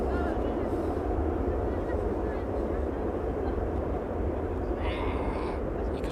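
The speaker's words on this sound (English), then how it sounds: "You can still hear the reversers." Airliner thrust reversers roaring on landing, a sustained broad low rumble that stays steady throughout, with a voice talking faintly over it.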